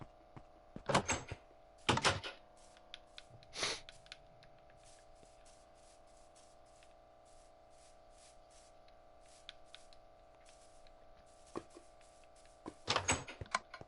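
Jungle wood door in Minecraft opening and closing, several short wooden clunks in quick pairs near the start and again at the end, over a steady low game hum with faint clicks between.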